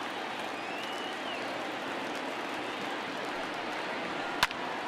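Steady broad roar of a large stadium crowd in the baseball video game MLB The Show 20, a dense continuous wash with no break, one brief sharp pop near the end.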